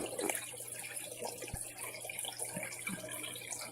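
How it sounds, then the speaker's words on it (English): Water pours steadily into an aquarium filter box during a tank water change, a close, continuous splashing gurgle with a few soft knocks and no voices. "Water goes in the box."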